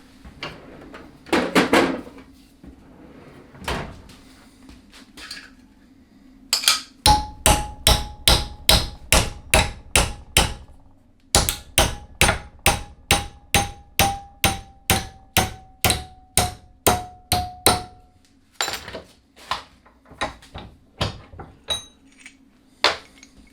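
Repeated hammer blows bending metal on a 4x6 bandsaw, ringing sharply in fast, steady bursts of strikes with brief pauses between runs, close by.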